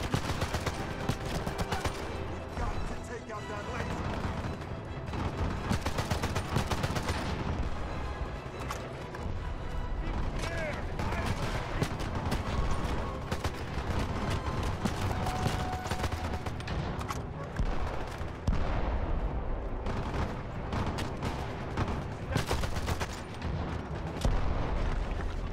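AK rifle fire in the Xbox 360 video game 007 Legends: Goldfinger, rapid dense gunfire and blasts running almost unbroken and loud, with game music and effects mixed in and no talk.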